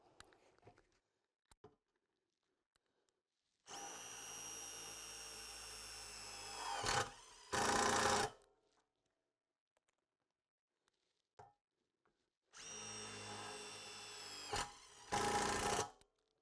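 A Makita DTD173 18V impact driver in its self-drilling screw mode sinks screws in two separate bursts, each a few seconds of loud rising motor whine followed by a short harsh rattling impact, with near-silence between runs.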